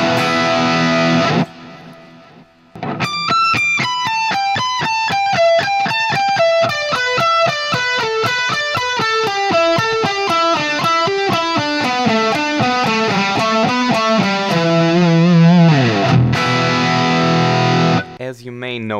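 A distorted electric guitar plays a fast shred pentatonic lick, a rapid repeating pattern of picked notes cascading downward for about fifteen seconds, loud and sustained, after a short opening strum and pause.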